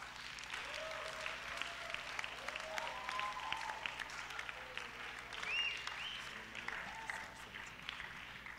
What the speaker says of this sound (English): Let's clap for Richie.